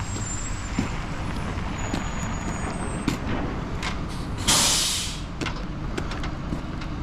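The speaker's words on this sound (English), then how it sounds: "the trucks have arrived" Heavy trucks idle and roll in on a busy road beside a pavement job, a deep engine rumble under traffic noise, broken midway by a loud, sharp air-brake hiss that fades out.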